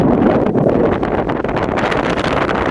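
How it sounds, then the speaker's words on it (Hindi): Light wind blows steadily across the microphone outdoors at a fishing spot, a constant rushing buffet with no talk. "और ये हल्की हल्की हवा चल रही है भाई"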